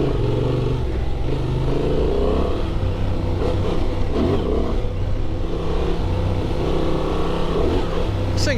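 A 2024 Honda Transalp XL 750 adventure motorcycle ridden hard through desert sand, its engine droning loud and steady, close to the microphone, with wind roar and some clatter from the rough ground.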